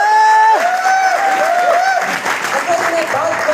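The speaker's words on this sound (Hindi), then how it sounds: "एक बार चाचा चौधरी साहब के लिए एक जोरदार तालियां।" An audience breaks into loud, sustained applause at a speaking event, with a bright tonal jingle or music cue ringing over the clapping at the start.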